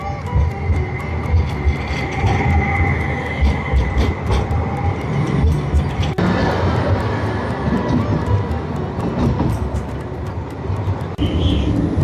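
A Luxembourg city tram runs with a steady, loud rumble and rolling hum throughout, with faint clanks and a brief higher whine near the end.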